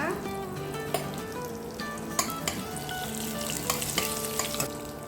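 Cinnamon, fennel seeds and curry leaves sautéing in hot oil, a continuous crackling sizzle with intermittent light taps and scrapes from stirring, moderately quiet.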